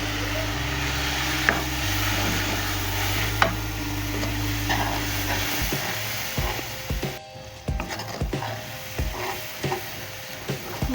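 Chili and turmeric masala frying in a pan for qeema karela, with a steady close sizzle and repeated sharp scrapes and taps of a spoon as it is stirred, and no voices.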